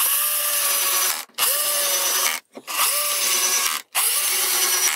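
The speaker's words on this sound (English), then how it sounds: "with this setup, I can comfortably screw on the sheet of wood without the fear that I" A power drill drives screws into a sheet of wood while a bookholder is being built, whirring loudly up close in three sustained runs separated by brief pauses, with no talking.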